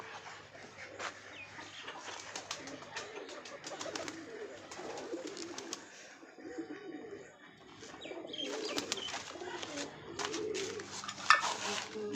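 Pigeons in a loft keep up a layered chorus of cooing, repeated low burbling calls with scattered flutters, growing busier and louder toward the end.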